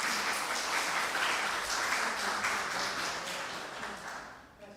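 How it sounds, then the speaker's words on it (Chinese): A church congregation applauds to welcome visiting guests during a Taiwanese-language Sunday service: sustained, dense clapping from many hands that stays steady for several seconds before thinning out near the end. "咱欢迎拍拍手。"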